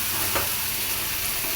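Food for an iftar meal fries in a pan, giving a close, continuous sizzle with a brief stirring scrape. There is no talk.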